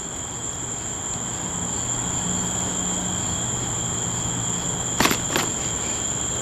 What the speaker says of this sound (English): Still got the cicadas and the frogs making a bunch of racket.